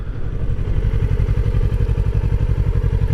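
A 2016 Kawasaki Ninja 650 motorcycle engine runs steadily at low revs through a slow U-turn on the road, a close, even, pulsing throb that holds without pauses and with no talking.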